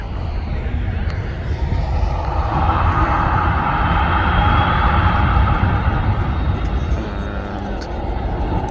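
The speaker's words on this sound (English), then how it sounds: "This is a long takeoff run." A fully laden jet airliner roars through a long takeoff run at Manchester Airport, a broad, steady rumble swelling in the middle and slowly easing, heard from a distance outdoors.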